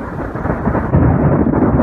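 A nearby storm's thunder rolls as a continuous deep rumble that swells and grows louder midway, close and heavy with a rain-like hiss, no voices.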